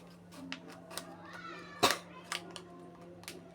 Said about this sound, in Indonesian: Ini kita gunting sebelah sini.